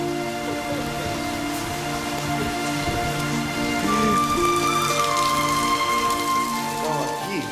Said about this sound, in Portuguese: Infelizmente está chovendo pra caramba